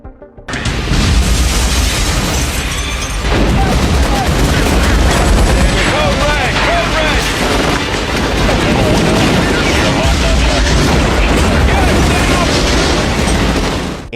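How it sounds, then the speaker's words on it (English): Army bombing of an auto shop in the 1998 film The Siege: a dense, loud, continuous barrage of explosions and gunfire that runs almost the whole time. "the army sabotages their raid and starts bombing the auto shop Tariq is in"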